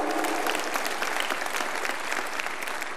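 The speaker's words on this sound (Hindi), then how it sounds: "उनके लिए जोरदार तालियां" Loud, dense applause from a large audience at a Yuva Bharat Shivir yoga camp at Patanjali Yogpeeth in Haridwar, sustained and even for the whole stretch with no voices breaking through.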